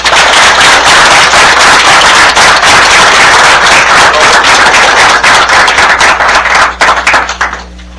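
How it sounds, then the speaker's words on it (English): A city council meeting crowd gives a round of applause, dense and loud clapping sustained for several seconds before tapering off abruptly near the end. "A round of applause."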